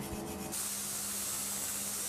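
Knife blade being ground during knife making, a continuous harsh abrasive hiss and rasp that holds steady and close for the whole stretch, no voices.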